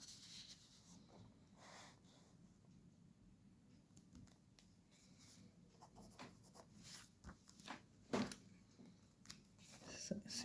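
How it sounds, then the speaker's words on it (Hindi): A pen writes out an example sentence during an English grammar lesson on modals, making faint, soft scratching strokes that come and go intermittently, growing slightly busier toward the end. "जैसे एक और सेंटेंस लिखता हूँ"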